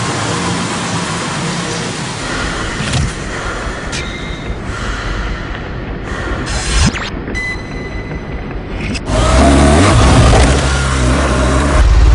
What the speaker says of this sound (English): Start the engine, please. 60 kilometers per hour. Now 100, then step on the gas.